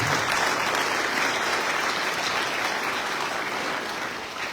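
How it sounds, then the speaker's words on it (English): Sustained applause from guests at a US Navy retirement ceremony, honoring the retiree's family, a thick wash of clapping that stays strong before easing slightly at the end. "round of applause again"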